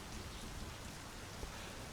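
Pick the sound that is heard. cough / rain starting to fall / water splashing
rain starting to fall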